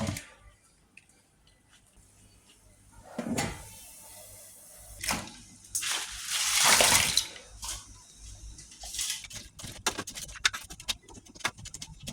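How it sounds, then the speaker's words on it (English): Eggshells being tipped into a pot of boiling water, giving bursts of watery splashing and sloshing with a few clinks, near and moderately loud, with quieter bubbling between the bursts. "I'm just going to transfer them to a pot of boiling water"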